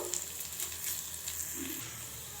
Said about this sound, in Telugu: ఇప్పుడు వీటిని కొద్దిగానైతే వేయించుకోవాలి.